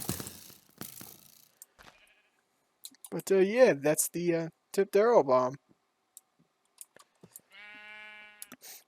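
A Minecraft sheep gives a short, clear synthetic bleat near the end, after a stretch of someone talking; faint game clicks and ticks are scattered earlier.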